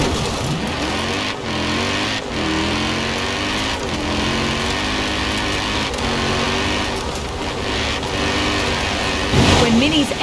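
Engine of the Mini X-raid Countryman, a big Dakar rally car, in Forza Horizon 4: a rough, tank-like drone with wavering revs and shifting pitch, continuous and fairly loud, with a person talking over it.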